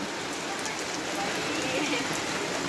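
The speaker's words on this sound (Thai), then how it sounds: "ฝนตกลินย่อยๆอีกแล้วพี่น้อง" Light rain falls steadily as an even, close patter on surfaces with no breaks, heard at night at a rural house in Thailand.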